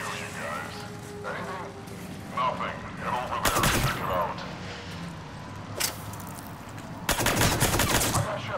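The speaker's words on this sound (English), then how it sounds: "Reports are coming in of gunfire on the Silver Sun Strip" Bursts of rapid automatic gunfire erupt in short volleys amid Mass Effect 3 game ambience, with voices talking in between.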